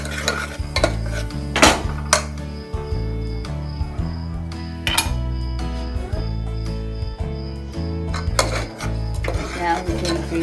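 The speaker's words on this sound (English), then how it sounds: "Just mix it with oil and the onions and whatever spices are in there." Spice paste with oil and onions is stirred in a pan for a spicy potato curry, the spoon scraping and clinking against the metal at a steady pace over a soft sizzle while background music plays.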